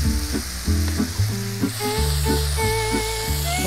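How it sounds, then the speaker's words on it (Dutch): Lamb meat searing in a hot pan gives a steady, loud sizzle with repeated stirring and scraping knocks throughout, close and with no voices. "Ons vlees is mooi aangeschroeid."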